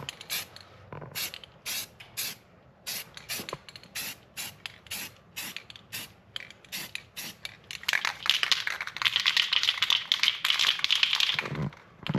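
Spray paint applied as a first coat to a 2024 Honda Grom wheel, short rhythmic hissing bursts from the can that become a longer, denser spray toward the end, with no talking.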